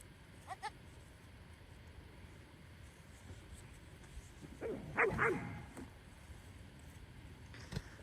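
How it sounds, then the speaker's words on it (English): Puppies yip and bark in a short burst while playing, fairly close, with a few faint earlier yelps over a steady outdoor background. "Puppies are playing."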